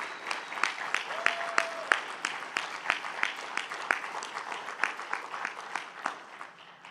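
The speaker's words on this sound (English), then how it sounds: "Let's have a big round of applause for our testimonials." A church congregation at a Sunday service claps steadily, the applause for the community's testimonials building into a sustained round of many hands, moderately distant and reverberant in the hall.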